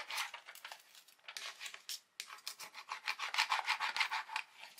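Close, rhythmic rasping strokes of a Mylar-backed transfer being rubbed down onto a TV tray, in quick repeated bursts with a short pause midway and no talking.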